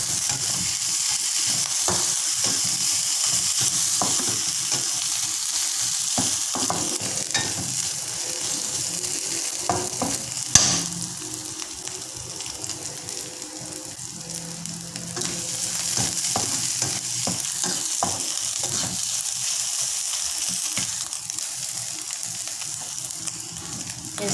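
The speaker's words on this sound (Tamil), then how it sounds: "நல்லா வதக்கிடுவோம்." Long beans and other ingredients stir-fried in a pan with soy sauce, sizzling loudly and continuously close up, with scraping stir strokes throughout and one sharp clack near the middle.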